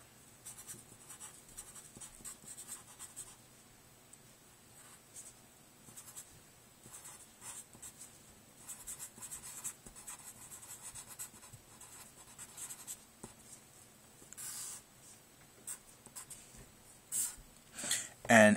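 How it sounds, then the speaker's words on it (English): A pen scratches steadily on paper while algebra notes about systems of equations are written out, a quiet continuous scribbling with brief pauses and a few louder strokes near the end. "Let me write that down."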